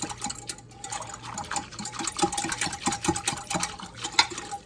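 A spoon stirs a yeast mixture with sugar and honey in liquid, a close, steady swishing and sloshing with quick rhythmic strokes and no voices.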